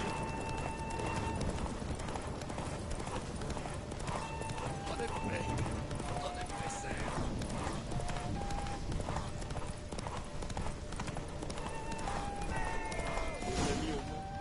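Roach, Geralt's horse in The Witcher 3, gallops hard during a race, hoofbeats pounding in a steady fast rhythm for a long stretch, with occasional whinnies and someone talking over the action.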